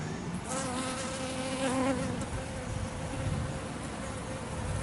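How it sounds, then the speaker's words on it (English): Steady insect buzzing of a bee, continuous and fairly close, with a low droning hum and faint background noise throughout. "it's very curious when you watch a bee"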